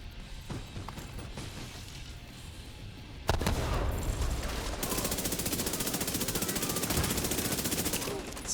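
Gunfire from a player's weapon in a multiplayer video game match, a quieter stretch with scattered clicks and shots giving way to a loud, steady, rapid burst of automatic fire that keeps going to the end.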